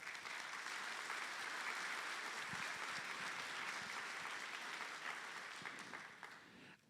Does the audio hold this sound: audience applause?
yes